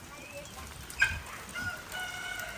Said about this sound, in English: Look, the chicken's there.